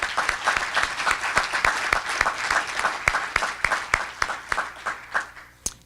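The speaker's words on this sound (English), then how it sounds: "Let's give them a round of applause." An audience at a college address gives a round of applause, with dense clapping that rises and then thins out to a few scattered claps at the end.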